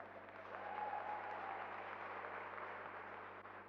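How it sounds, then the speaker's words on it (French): A church congregation applauds continuously, a steady, even wash of clapping at moderate loudness with a low hum underneath, easing slightly toward the end. "Vous avez fini d'applaudir?"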